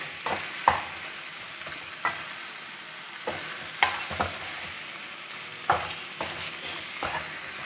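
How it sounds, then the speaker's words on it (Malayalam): Chicken for a restaurant-style gravy frying and drying out in a pan, with a soft steady sizzle and a spatula scraping and stirring in repeated close strokes every second or so, with no voices. "ഈ ചിക്കനൊക്കെ ഒന്ന് ഡ്രൈ ആയി വരണം. അതുവരെ ഒന്ന് ഇളക്കി കൊടുക്കണം."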